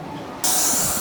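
A sudden loud hiss of a spray can bursts in after a brief quiet moment and continues steadily, close up.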